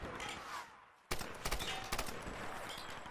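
Rapid bursts of rifle fire in the Tomb Raider video game crack out in a loud volley after a brief lull, with sharp repeated shots over the game's ambient background.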